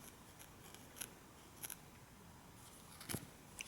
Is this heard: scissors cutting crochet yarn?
yes